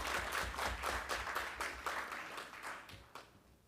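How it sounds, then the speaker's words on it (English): A conference audience at an education event claps in a steady, dense round of applause that stays fairly even and then gradually thins and fades toward the end. "Give him a round of applause again."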